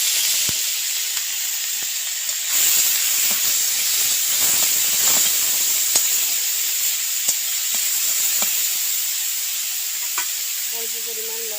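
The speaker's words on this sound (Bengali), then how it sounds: "এবারে ভেজে নেব শুকনো মাছগুলো। কড়াতে দিয়ে দেবো সাদা তেল।" Dried fish fry in hot white oil in a wok with a steady, fairly loud sizzling hiss, punctuated by scattered pops and light stirring knocks throughout, with no talking.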